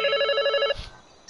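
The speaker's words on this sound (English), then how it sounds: "the phones are ringing off the hook" Telephone bells ringing in a rapid trilling burst, a bright electronic-sounding ring that stops abruptly after under a second, followed by a soft clunk and quiet.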